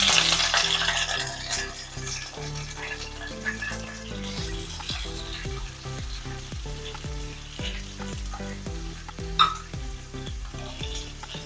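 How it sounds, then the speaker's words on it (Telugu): Coriander and curry leaves fry in hot oil for a fish curry, a continuous crackling sizzle sitting under rhythmic background music. "చేపల పులుసుకి ముందుగా కొత్తిమీర, కరివేపాకు ఇలా వేపుకుంటే టేస్ట్ బాగుంటుందండి"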